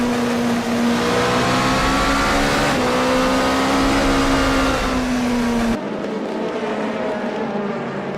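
Race cars lapping the Autopolis circuit in Japan during an 80-minute race, a steady loud engine drone with shifting pitch as a car passes, then a quieter, duller engine hum in the last few seconds.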